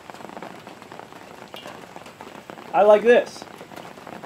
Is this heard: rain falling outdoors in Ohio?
yes